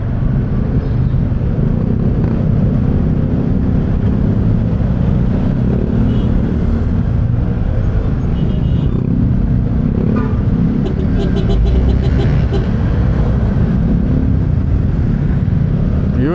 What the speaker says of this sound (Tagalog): It's the rush hour weekday traffic.